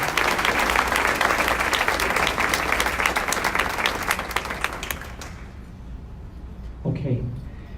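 Dense, loud audience applause for two educators at a community breakfast, sustained for about five seconds before fading out, followed by a brief spoken voice near the end.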